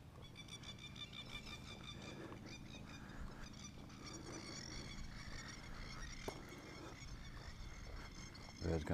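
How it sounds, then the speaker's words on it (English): Flocks of birds including geese and plovers call loudly and constantly in an outdoor setting near a cemetery in Innisfail, Australia, a dense honking chorus throughout with faint talk underneath. "Birds going crazy."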